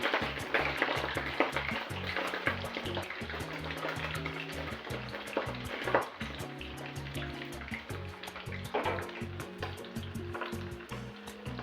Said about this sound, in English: Once oil is hot, I add in my pieces of beef.